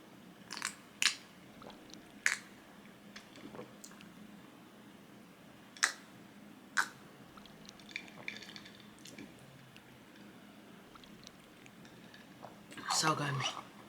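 Strawberries are eaten as a study snack, with soft wet bites and chewing that come in scattered bursts close to the mic over quiet room tone, ending in a louder rustle.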